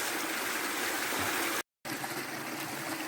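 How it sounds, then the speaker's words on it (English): Water cascades steadily down a woodland brook in a Peak District clough, a close, continuous rushing splash that fills the whole clip, broken only by a brief moment of silence. "now back to woodland pools and cascades"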